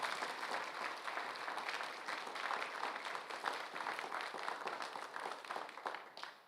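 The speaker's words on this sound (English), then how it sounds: "another round of applause, if we could, for Pam" Audience applause at a public announcement event, a dense, even patter of many hands clapping at moderate distance, holding steady for several seconds before tapering off at the end.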